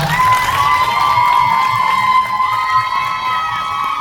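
A large crowd of fans at a music press event screams shrilly and cheers without pause, loud and sustained throughout.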